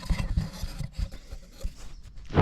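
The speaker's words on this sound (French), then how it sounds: "on va venir dévisser les vis qui retiennent le pare-choc au garde-boue" A Phillips screwdriver turns out the screws holding an Alfa Romeo Giulietta rear bumper to the wheel arch liner, giving close, short scraping and rubbing grinds in an uneven rhythm.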